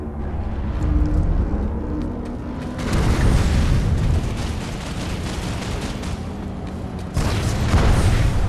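Explosions in the Planetside 2 online shooter, a dense rumbling barrage of booms and blasts that swells in waves, loud and continuous with no talk.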